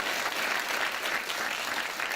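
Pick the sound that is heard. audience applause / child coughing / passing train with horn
audience applause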